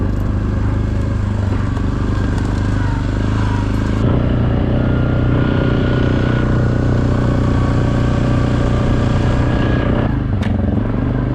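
An ATV engine drones close and steady along a flat, wide dirt trail in the Kalkaska woods. A clattering, mid-pitched motor note shifts slightly in load partway through and dips near the end.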